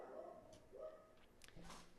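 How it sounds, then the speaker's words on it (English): Dogs acting up indoors give short yips and whimpering whines in a quick, close burst that sits low in the mix, with a little background noise. "I hate when my dogs act up."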